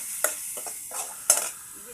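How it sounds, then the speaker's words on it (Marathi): A spoon stirring spice masala into fish curry in a pan gives a few short scraping clinks and soft sizzling swishes, close and fairly quiet over a low background. "मिक्स करून घेऊ."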